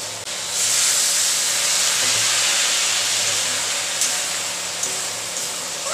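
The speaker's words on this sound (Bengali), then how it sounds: "সবজিগুলো একটু ভেজে নেবো।" Vegetables hit hot oil in a pan and burst into a loud, close, steady hissing sizzle that begins abruptly and slowly eases off, with a few brief clinks and no speech.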